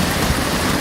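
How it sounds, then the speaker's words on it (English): Brief, dense hiss of rain and sleet falling outdoors in Arizona as it turns to snow, broadband and steady with a low rumble of wind beneath it. "that is raining, and it is just at this very moment starting to turn into snow"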